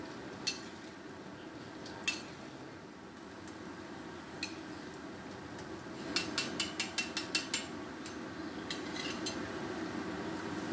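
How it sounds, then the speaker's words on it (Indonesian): Macaroni frying in hot oil for spicy chips is stirred in a pan, with a soft constant sizzle under scattered metallic utensil clicks that bunch into a quick rapid run of scraping taps partway through. "Lalu aduk-aduk supaya makaroninya dapat terpisah-pisah."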